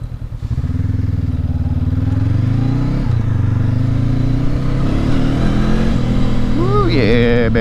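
A 2019 Honda CB500X motorcycle engine hums steadily at close range as the rider downshifts, with a dip around three seconds and rising throttle blips near the end over road noise.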